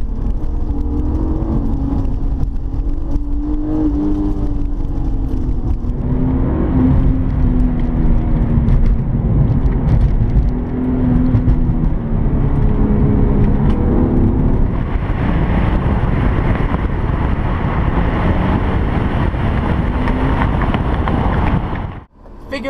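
A 1999 BMW E36 M3 sports car on the road, its engine droning and rising in pitch under acceleration, with heavy wind and road noise inside the cabin throughout, cutting out abruptly at the end.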